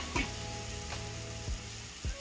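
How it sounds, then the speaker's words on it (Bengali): Masala paste fries in a pan after water is added and is cooked down for a Bengali tangra fish curry. A soft, steady sizzle runs throughout, and light clinks of a stirring spoon come at intervals. "জল দিয়ে আবারও কষাবো, মশলাটা আরো সুন্দর ভাজা হয়ে যাবে"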